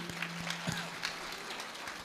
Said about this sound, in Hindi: तालियां बजाइए बच्चे के लिए